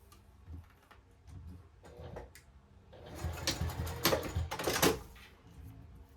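A sewing machine runs a few basting stitches to hold trim in place on a tote bag, soft quiet ticking at first that swells into a denser rapid whirring clatter near the end.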